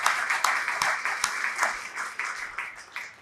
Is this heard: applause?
yes